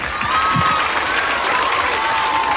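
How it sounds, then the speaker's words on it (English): A studio audience cheers and claps at a game show, a dense, steady wash of applause and whoops that fills the whole moment at close range. "Cheer them on, you guys."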